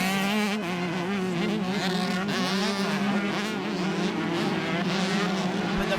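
Several 1989 Honda CR125 two-stroke motocross bikes race side by side on an opening lap, engines buzzing and wailing continuously at high revs, loud and close, with rising and falling pitch as riders work through gears.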